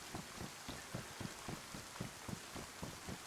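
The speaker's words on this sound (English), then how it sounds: "So that's the one thing I don't really like about this game, is it constantly rains, man." Constant rain in a zombie survival video game falls as a steady, dense hiss with soft, regularly pulsing patters of drops, with no speech over it.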